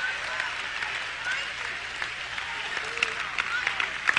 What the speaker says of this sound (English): clap your hands for the king one time